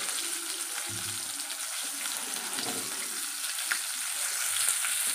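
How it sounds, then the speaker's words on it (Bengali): Fish fry in a pan with a constant close hiss of hot oil, steady and fairly loud, with a few small pops and no voices. "এখন মাছ ভাজা বসিয়ে দিয়েছি"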